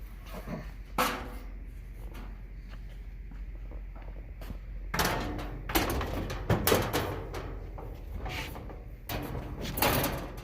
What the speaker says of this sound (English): We're going to slide on this back panel.